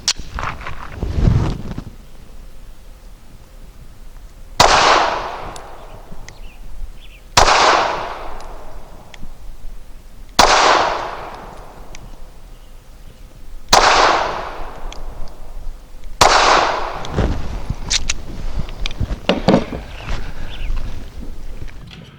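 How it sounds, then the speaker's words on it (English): A Walther CCP M2 pistol fires five loud, sharp shots of Nosler 124 grain match ammunition from 7 yards, evenly spaced about three seconds apart, each with a booming outdoor decay, after a softer thud at the start. "Now for 5 shots from 7 yards using Nosler 124 grain match."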